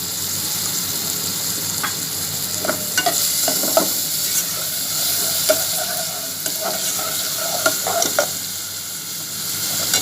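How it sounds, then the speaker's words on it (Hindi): Chopped onions and a green chili sauté in a pan with a constant soft sizzle, while a utensil stirs and scrapes with irregular clicks and taps close by. "ये मैंने चॉप करके प्याज रखे थे और 1 सब्ज़ मिर्च डाली थी इसमें डाल के इसको सोते करना, ब्राउन नहीं करना"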